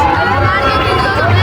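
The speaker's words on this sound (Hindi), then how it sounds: "अब भीड़ बहुत है" Dense crowd at the Baba Mahendranath temple fair, a steady, loud wash of overlapping voices and babble with shuffling movement that carries on throughout without a break.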